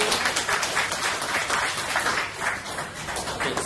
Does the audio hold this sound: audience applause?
yes